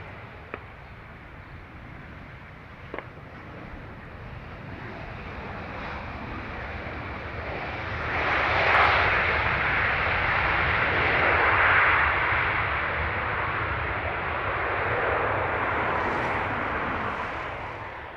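An ATR turboprop flies high and far off near Dublin Airport, a faint drone that swells for a few seconds in the middle and then fades, set against wind noise.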